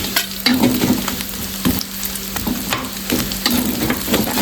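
Onion fries in a wok for stir-fried tofu and tempeh, a steady hot sizzle layered with rhythmic metallic scrapes and clanks of a spatula stirring against the wok.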